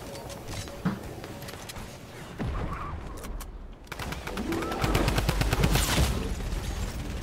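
Gunfire in Fortnite Season 9 arrives as scattered shots and then rapid bursts that grow louder toward the end over constant game background noise.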